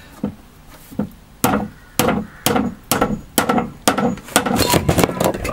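Hammering nails into wood while building a solar oven, about a dozen loud, close, evenly spaced blows with ringing decay, quickening and bunching together toward the end.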